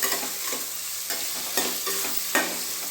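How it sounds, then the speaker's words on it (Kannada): Sliced onions frying in oil for vegetable pulao sizzle close by in a steady hiss, with a spoon scraping and stirring every half second or so. "ಈ ಈರುಳ್ಳಿ ಕೂಡ ಎಣ್ಣೆಯಲ್ಲಿ ಚೆನ್ನಾಗಿ ಫ್ರೈ ಆಗಬೇಕು."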